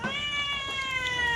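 A cat gives one clear, close meow that rises slightly and then falls off, heard alone without talk.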